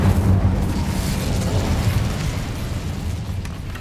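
An Incendio fire spell is cast in Hogwarts Legacy, giving a loud whooshing, roaring burst of flame that slowly fades over a few seconds, with a deep rumble underneath.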